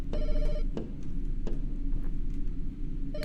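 A telephone rings inside a house in the horror video game I'm Still Here, with repeated bursts of electronic ringing under a steady background rumble and other game sounds.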